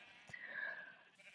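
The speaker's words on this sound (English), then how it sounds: "And I am breeding sheep." A Minecraft sheep gives a single short bleat, close and faint, during a building session in the game.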